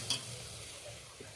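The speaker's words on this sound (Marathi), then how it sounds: "परतून घेऊया" Spiced masala being sautéed in oil in a pot on a gas stove gives a soft, low sizzle with light scraping from stirring, faint and close, with no talk.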